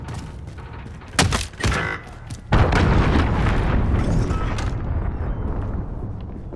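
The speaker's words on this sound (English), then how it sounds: "Enemy cruise missile incoming!" In Call of Duty: Modern Warfare, a cruise missile explodes in a sudden loud blast, preceded by a couple of sharp cracks, then a dense roaring rumble that lingers for several seconds.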